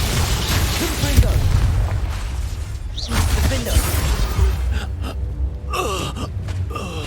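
A Confringo fire spell from Hogwarts Legacy goes off in a burst, followed by a sharp shattering blast, set against game combat noise with a gasp and brief voices.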